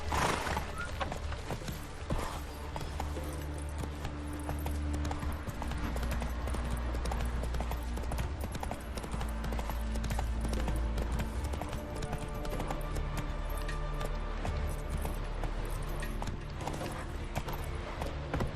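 The horse Roach gallops steadily in The Witcher 3: Wild Hunt, with continuous rhythmic hoofbeats, occasional whinnies and a snort, close and clear over a low ambient background.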